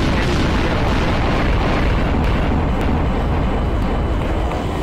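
A nuclear bomb in Garry's Mod detonates as a continuous loud, roaring rumble that fills the whole stretch without letup.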